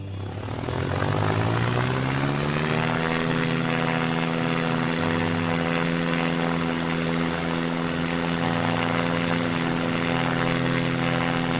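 Steady propeller-plane engine drone from SimplePlanes, the flight-simulator game: a loud, continuous hum that rises in pitch during the first few seconds and then holds, with no talking.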